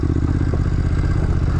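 A fuel-injected Triumph Scrambler motorcycle runs with a loud, close, steady exhaust burble, a fast, even pulsing rhythm throughout, with no voices over it.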